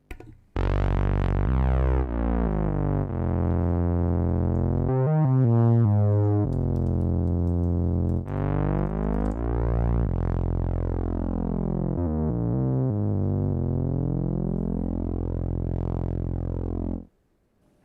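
A run of Behringer Toro synthesizer preset tones, each held for a moment, with buzzy layered harmonics and pitch sweeps, playing steadily and loud with no one talking.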